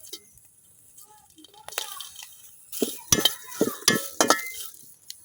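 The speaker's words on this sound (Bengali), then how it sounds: "এখন আমি মরিচটি ভাজা লইলাম।" Dried chillies frying in a pan on a home stove, a soft hiss underneath while a utensil stirs and clinks against the pan in a quick cluster of scraping knocks toward the end.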